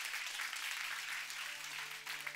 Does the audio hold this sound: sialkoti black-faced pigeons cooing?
no